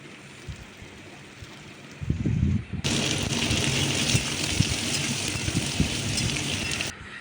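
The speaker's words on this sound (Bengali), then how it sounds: "বাস ভালো করে আমি একটু একটু কষাচ্ছি, দেখতে পাচ্ছ।" Chili fritter mixture sizzles and is stirred in a pan, with a loud, steady hiss that starts abruptly partway through and continues under scraping, unbroken until just before the end.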